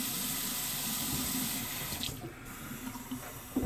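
Water runs steadily from a tap into a bathroom sink during a straight razor shave, a continuous close splashing hiss that softens briefly near the end.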